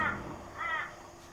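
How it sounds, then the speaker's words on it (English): A local crow caws twice outdoors, two harsh nearby calls separated by a short pause, with faint background noise and no talking. "with company today by the local crow."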